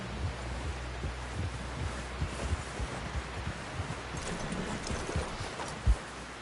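Horse hooves clip-clop steadily on a trail in the Western video game Red Dead Redemption, soft and fairly distant under a dense, rustling outdoor ambience, with one sharper thud near the end.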